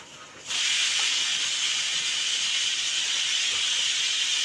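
Puliyogare tamarind gojju simmers in a pan, a loud steady sizzling hiss that kicks in after a brief quieter moment and holds evenly to the end, close and alone.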